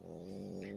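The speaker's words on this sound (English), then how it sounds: "That is a French bulldog that purrs." A French bulldog purrs close up, a low, steady rumbling drone held for under a second, soft and alone.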